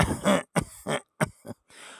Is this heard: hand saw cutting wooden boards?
no